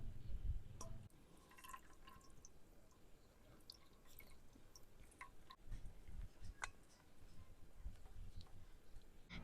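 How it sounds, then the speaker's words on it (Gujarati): Water drips and dribbles in quiet, irregular spatters from squeezed, chopped bitter gourd (karela) into a dish in a home kitchen, with soft wet handling sounds close by. "તો હવે આપણે એને નીચવીને એક ડીશમાં કાઢી લઈશું."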